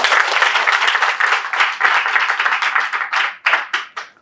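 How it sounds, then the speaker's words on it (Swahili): Crowd applause for guests, a local MP and a ward councillor, at a Tanzanian political gathering ahead of the general election: dense, loud clapping that thins into a few scattered, separate claps near the end. "Pigeni makofi kwao."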